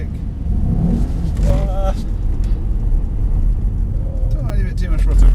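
Mercedes-AMG SL63 under throttle on a race track, a steady loud engine rumble throughout that rises toward the end, with an instructor talking over the noise.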